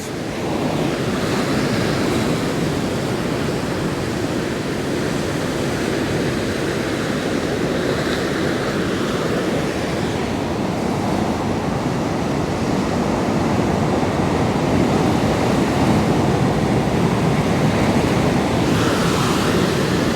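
Surf rolls in at Coogee Beach, Sydney, under East Coast Low weather, a steady broadband wash of breaking waves mixed with wind buffeting the microphone, continuous and fairly loud with no voices.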